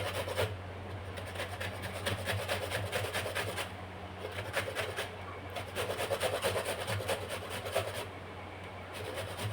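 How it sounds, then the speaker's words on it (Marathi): Raw mango is grated into fine shreds, producing a continuous rapid rasping scrape in quick repeated strokes, close and moderately quiet, with no talking. "तर बघा अशा पद्धतीने बारीक छान असा हा कैरीचा किस तयार होत आहे।"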